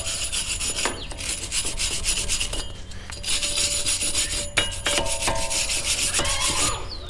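A rag rubs grease off a new brake rotor during a brake pad and rotor replacement on a 2011-2018 Dodge Durango or Jeep Grand Cherokee, giving steady close scrubbing and rasping strokes without pause, with a few sharp metallic clinks.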